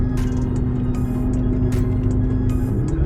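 A BMW i8 with a custom performance gauge drives along using paddle shifts. Inside the cabin, a steady engine drone carries short bursts of higher noise as it is shifted through the gears.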